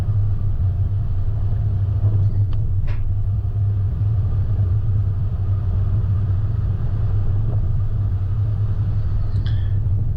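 Steady low engine and road rumble inside a vehicle driving a narrow, rough mountain track into the Alpine National Park on the way to Wonnangatta, with a few faint clicks and knocks over the continuous drone.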